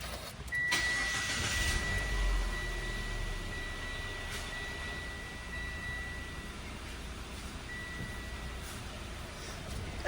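A Mitsubishi Xpander that turned noisy after an oil change starts up and settles into a steady mid-pitched idle with a faint whine. It runs close and continuously, with a sharp noise at the very end.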